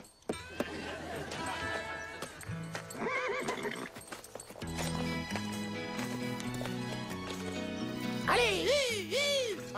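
A horse whinnies loudly several times over steady clip-clopping hooves, with music and a voice mixed in.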